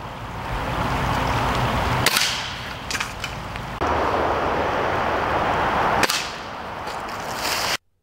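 A Stoeger S4000-E .22 caliber pellet rifle fires in a few sharp cracks roughly two seconds apart, each a loud snap cutting through steady background hiss.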